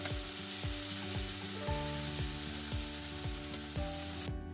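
Vegetables and cherry tomatoes fry in a pan with a steady, close sizzle, accompanied by repeated light scraping or stirring taps throughout.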